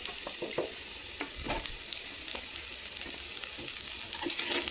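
Ridge gourd pieces tossed into potatoes frying in a pan, a continuous close sizzle with scattered clicks and scraping from stirring, fairly quiet and without talking.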